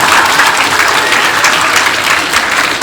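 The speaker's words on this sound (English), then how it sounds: "let's give a special round of applause to our very own Dr. Clay" A crowd at a school Men Make A Difference Day event claps in loud, sustained, dense applause that stays steady throughout, with no talking over it.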